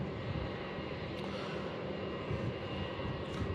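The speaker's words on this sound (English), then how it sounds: "Nice touchdown as always from Singapore Airlines." Singapore Airlines airliner touching down on the runway at Melbourne Airport, a steady broadband engine roar with rumbling low end that holds loud and constant throughout, no voices.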